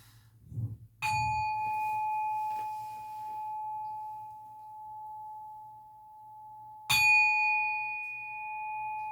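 A bell rings twice, each strike a clear metallic ding followed by a long, steady ringing tone that fades slowly; the second strike lands about six seconds after the first, and the space is otherwise quiet.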